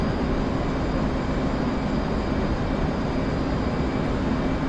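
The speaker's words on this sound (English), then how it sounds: "This plane's gonna take me right back over the water." A fixed-wing airplane in a carrier-operations video game flies out over water, its engine a steady, unbroken roaring drone that stays loud and even throughout with no speech over it.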